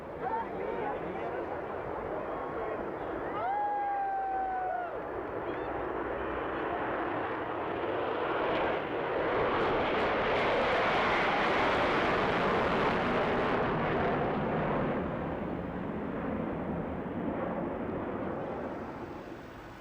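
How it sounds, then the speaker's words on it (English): Concorde supersonic airliner departing Heathrow at night with reheat: a loud, rumbling jet roar that builds to a broad peak midway, then slowly eases, with faint crowd voices underneath. "these nocturnal departures complete with glowing reheats were to prove truly unforgettable for the many spectators lining Heathrow's perimeters"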